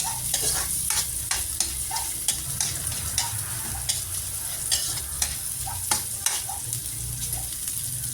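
Onion softening in a hot pan, a continuous close sizzle broken by frequent taps and scrapes of a utensil stirring, with no talking.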